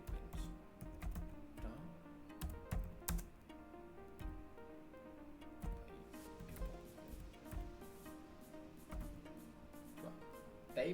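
Typing code into a terminal on a computer keyboard gives a quiet, steady clatter of close key clicks with irregular rhythm and occasional sharper taps.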